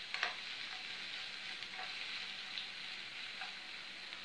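Steady, even sizzle of onions frying in a pan, with a few faint clicks and stirring scrapes over the constant crackle.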